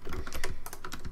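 Rapid computer mouse clicks sound during Blender 3D character modeling, a quick irregular string of close, crisp taps with no voices.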